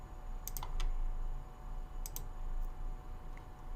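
A few quiet, crisp computer mouse clicks, spaced in small pairs, sound against a faint hum of room noise while file types are deselected.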